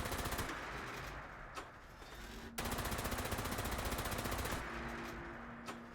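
Rapid automatic gunfire in Fallout 76, aimed at scorched enemies: dense bursts of shots in two long strings separated by a brief pause, fairly quiet overall, with no talking.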